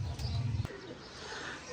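Pigeons cooing at a pigeon club, with a low, soft cooing burst at the start and then quieter bird sounds over faint background noise.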